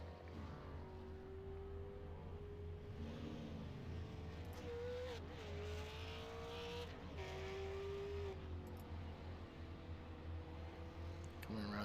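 A race car rolls out of pit road for qualifying at the Lucas Oil Super 50, its engine a continuous droning whine that rises and dips in pitch over a busy, noisy track background.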